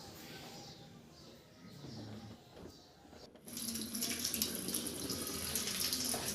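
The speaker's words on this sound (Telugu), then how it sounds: "ఇప్పుడు మనము కొంచెం వాటర్ పోనీయాలి." Water begins to run from a home water purifier to flush out its sediment filter. Faint handling noises come first, then a sudden steady rush of flowing water that continues to the end.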